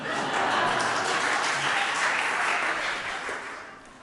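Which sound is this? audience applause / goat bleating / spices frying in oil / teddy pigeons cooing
audience applause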